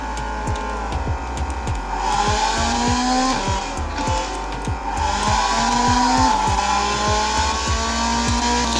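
A Porsche 911 in a racing video game drives hard, its engine note rising and falling through gear shifts while tires squeal and skid almost continuously, loud and close with no talking.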